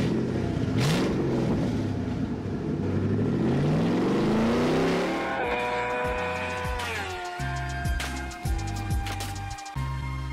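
1968 Ford Cortina Deluxe Mark II, originally a 1.3 engine: strong revving with rising and falling pitch near the start, then a rough, lumpy idle with uneven pulses, close and loud with no talking.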